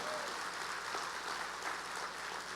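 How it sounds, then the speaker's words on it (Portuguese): A church congregation claps together in a steady, even wash of applause, faint and distant, filling the room without a break and with no clear voice on top. "dê um aplauso a Ele"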